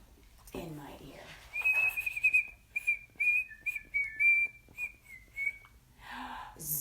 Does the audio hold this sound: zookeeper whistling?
yes